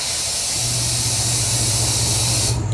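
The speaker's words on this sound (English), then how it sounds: "Compressor just kicked on." An air compressor in a shop kicks on with a low motor hum beneath a loud, steady hiss that cuts off abruptly at the end.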